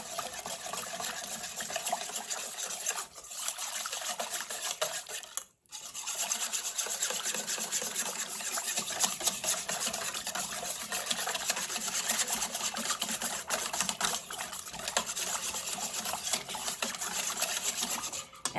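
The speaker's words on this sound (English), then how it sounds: "Okay, so we're to mix this up really well." A chicken marinade is stirred and mixed by hand, giving a continuous wet rubbing and sloshing close by that drops out briefly once partway through and then resumes.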